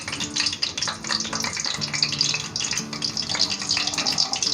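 Half a teaspoon of cumin seeds frying in hot oil in a pan, a steady close crackling sizzle with faint stirring and no talk.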